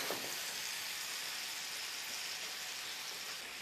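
Raspberry balsamic vinegar with a sprig of rosemary simmers in a pan, giving a steady, soft hiss and fine sizzle that holds evenly throughout with no voice.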